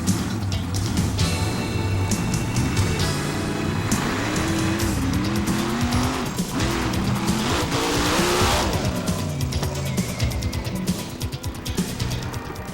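A monster truck at a monster truck show roars at full throttle as it launches and jumps over a set of cars, its engine loud and close with rising and falling pitch and a dense, continuous rumble.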